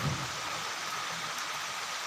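Heavy rain pouring steadily without a break, a dense, continuous broadband hiss that stays even and unbroken throughout, with no voices.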